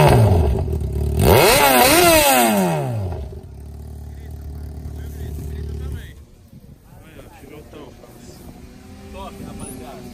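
Honda Hornet motorcycle engine revved hard in a loud, rising-and-falling burst, then settling into a rough idle while people talk nearby.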